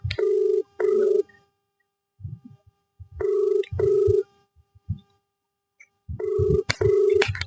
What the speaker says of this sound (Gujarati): ફોન લગાડવે રીંગ જાય રીંગ જાય હવે